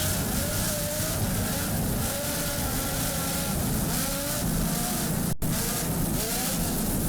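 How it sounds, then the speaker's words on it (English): The offshore racing powerboat Reverie roars past at the Miami Offshore Grand Prix, its twin 920-horsepower Lamborghini engines holding a loud, continuous high-revving drone over churning water, with a brief cut near the end. "Just listen to those Lamborghini power plants."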